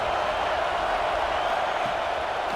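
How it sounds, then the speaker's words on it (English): A packed stadium crowd in a college football video game roars on third down, a loud, steady wall of broadband cheering that holds without a break. "Decibels rising as the crowd gets behind this defense on 3rd down."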